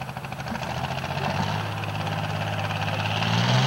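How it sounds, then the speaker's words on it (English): A 1968 John Deere 3020 tractor at a 1988 tractor pull in Laurel, Delaware, holds a loud, steady diesel idle with a deep low rumble that swells slightly toward the end, with no talking. "Bill Grimes can move right on down the line with that 68 30-20 John Deere named Buckshot"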